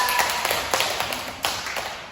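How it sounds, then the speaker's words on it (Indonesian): Students in a classroom clap their hands, giving a handful of faint, scattered claps over a quiet room. "Tepuk tangan dulu buat Fatia."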